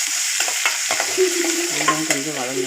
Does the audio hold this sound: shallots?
yes